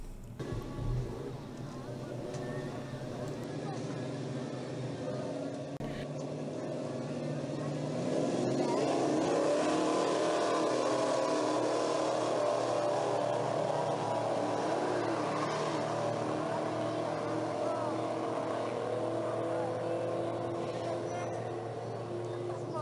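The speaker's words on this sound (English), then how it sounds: "I brought the Challenger to the drag strip to see what kind of quarter-mile times it would turn." A Dodge Challenger on rear slicks, otherwise street stock and shifting on its own, makes a drag-strip quarter-mile run. Its engine drones steadily, then swells louder and stays strong through the second half.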